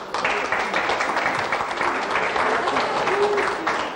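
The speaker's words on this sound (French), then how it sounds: "Voilà, vous pouvez l'applaudir." Short burst of audience applause at an award ceremony in Grasse as a prize winner receives a cup and diploma, dense and even clapping from a crowd in a hall.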